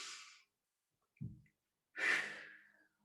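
Deep breathing during a Pilates shoulder exercise: a soft airy exhale, a brief low puff, then a fuller, louder breath out that trails away, all close and faint with no talking.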